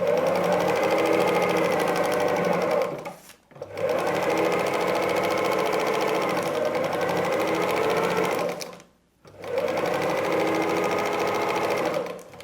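A sewing machine stitches steadily along a marked or perforated line on a paper-pieced patchwork cat block, running loud and close in three long continuous bursts, with brief pauses near 3.5 and 9 seconds.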